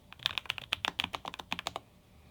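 Keys on a Lofree Flow Lite mechanical keyboard clack in a fast, uneven run of crisp, close keystrokes, then stop.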